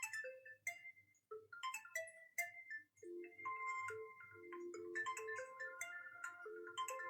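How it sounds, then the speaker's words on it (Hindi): A phone plays a melodic ringtone, bright tones repeating in a quick pattern, fairly quiet and with no talking over it. "इसका फोन आ रहा है"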